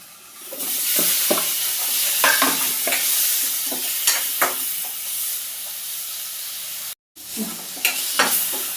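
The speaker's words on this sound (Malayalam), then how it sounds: "ഈ നമ്മൾ അരിഞ്ഞ് വെച്ചേക്കണം ഈ തക്കാളി ഉണ്ടോ, തക്കാളി ഇട്ട് കൊടുക്കാം" Chopped tomatoes go into a hot pan and are stirred, giving a steady loud sizzle with repeated scraping strokes. The sound stops briefly near the end, then resumes.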